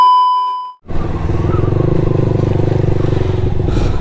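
A motorcycle pulls away after a brief electronic beep, its engine note rising as it moves off and then holding a steady, close drone with some clatter and wind, recorded by a rider's action camera.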